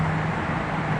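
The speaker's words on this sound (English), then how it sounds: "Sorry for the noise. I live close to a highway," A steady low rumble and wash of road noise fills the clip, like traffic passing continuously on a nearby highway.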